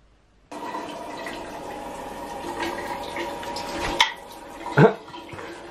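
Water sprays in a steady hiss for a pet bird's shower, starting abruptly after a brief silence, with a couple of louder splashes or bumps near the end.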